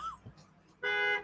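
A short, loud car horn honk with a bright harmonic tone that sounds once near the end, following a brief stretch of quiet.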